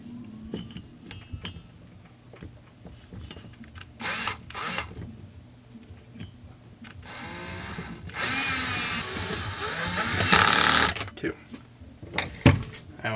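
Small mechanical clicks, metallic scrapes and short bursts of tool noise come from fitting cylinder bolts on a Stihl MS200T chainsaw engine during rebuild assembly, close up and intermittent, with a louder ratcheting stretch near the end.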